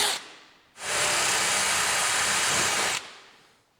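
A power drill whirs steadily at high speed for about two seconds while drilling a rivet out of a trimmer head, close and loud, then cuts off into quiet with no talk.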